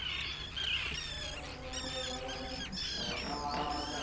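Many birds call and chirp at once in the Danube delta wetlands, a dense chorus of high twittering notes over a steady low background, with no one speaking.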